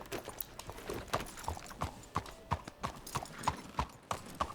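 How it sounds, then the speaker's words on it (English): Horse hooves clip-clop steadily on a stone street in Red Dead Redemption 2, a regular close walking rhythm of crisp knocks with a faint bit of background ambience. "the clip-clopping of hooves on the stone is like ASMR for me"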